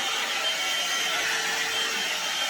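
An electric hair appliance whirs steadily and continuously with a high, airy hiss, close by and fairly loud, with no voices.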